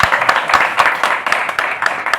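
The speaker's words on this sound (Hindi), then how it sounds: "इस कंपनी के मालिक श्री त्रिलोचन छावड़ा जी का जोरदार ताली चाहिए।" Audience applause for a clothing company owner at a business seminar in Silvassa, many hands clapping steadily and fairly close, with a few louder claps standing out.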